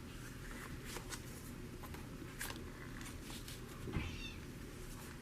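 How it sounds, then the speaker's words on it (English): A cat at the door makes a short squeaky meow near the end, heard faintly over close rustling and scattered paper or card handling, with no one speaking. "Oh, that cat is squeaking. Squeaking at the door."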